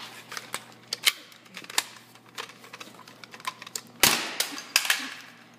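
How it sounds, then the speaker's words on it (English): A camera topples over during an airsoft review of a Lancer Tactical M4A1, landing with a sharp close crash at about four seconds. Light clicks and taps come before it, and brief rattles follow. "Camera fell there. That was not supposed to happen."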